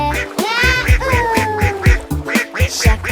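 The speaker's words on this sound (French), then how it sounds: "tous les canards criaient" Ducks quack loudly and rapidly, several nasal calls overlapping in a lively, close chorus.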